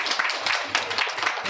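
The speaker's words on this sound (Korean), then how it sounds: "뜨겁게 한번 박수." A youth church congregation claps for two high-school students, a dense, steady burst of applause that fills the room from start to finish.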